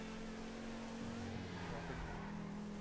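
A fast car engine in GTA drones steadily at high revs, a continuous loud whine with faint tire noise and no break over a few seconds.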